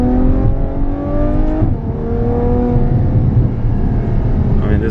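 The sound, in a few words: Ferrari F12 Berlinetta engine revving while driving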